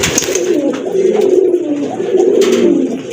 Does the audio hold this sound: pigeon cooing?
yes